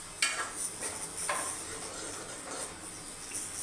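A utensil stirs food in a cooking pot with a few scraping clinks over a soft sizzle, close and moderately loud, with no talking.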